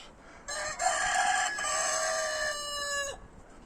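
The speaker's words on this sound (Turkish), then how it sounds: "horozlarım, tavuklarım da böyle huzursuz şekilde ötüyorlar" A single rooster crows loudly and close by in one long drawn-out call, with faint background noise around it, in a garden.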